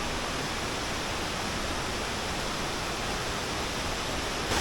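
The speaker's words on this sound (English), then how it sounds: "it's quite a nice shot of the waterfall" Tumpak Sewu waterfall in East Java roars as a steady, dense broadband rush of falling water, close and constant throughout with no voices.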